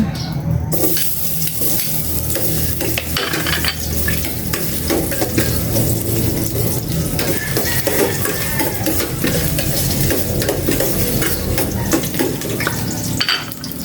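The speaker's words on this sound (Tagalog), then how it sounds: "Igisa ko na itong luya." Steady sizzling of ginger sautéing in hot oil in a pot, with occasional stirring and light utensil clinks against the pot, continuous and close.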